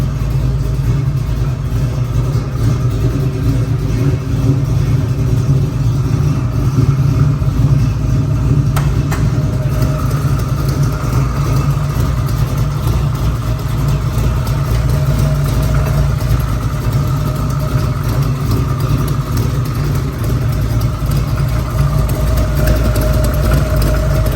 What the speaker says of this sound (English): That old car sure rumbles.